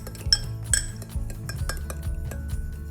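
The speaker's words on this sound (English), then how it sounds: "I'm gonna take my fork again and just give this a mix" A fork mixes a microwave breakfast scramble in a dish, giving a run of quick scraping clinks and taps against the bowl, close and fairly loud, in an irregular rhythm with no talking.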